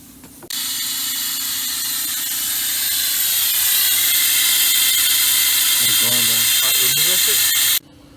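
A vacuum pump runs steadily while drawing fuel out through a hose on a Nissan 350Z being converted to E85, giving a continuous hissing, mechanical hum close by, with a brief voice-like chirp near the end.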